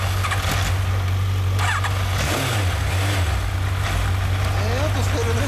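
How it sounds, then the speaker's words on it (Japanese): A 1999 Honda VFR800F (RC49) motorcycle fitted with an Akrapovic exhaust idles in a steady, low, even drone that stays close and constant throughout, with faint background voices over it. "エンジン音聞かせてもらえますか"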